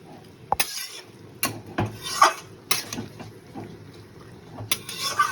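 A spoon stirs small mourola fish curry with oil and water in a pan, giving intermittent close scrapes and knocks against the metal over a quiet simmer, in short separate bursts.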